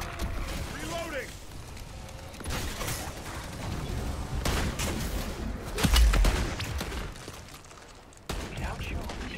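Sniper rifle gunfire in MW3 Zombies, with several sharp shots over constant game noise, mechanical clatter and rumble, and one heavy boom near the middle.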